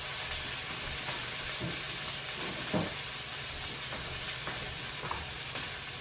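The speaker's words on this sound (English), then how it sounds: "She's sizzling, she's searing." Steak searing in a hot pan on the stove gives a steady, continuous sizzle and hiss with faint crackles, close and even throughout, no voices.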